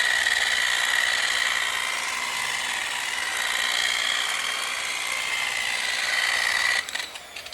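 Power polisher buffing paint on a 1969 Mustang with a continuous close, high whir that wavers slightly with pressure, then stops abruptly near the end.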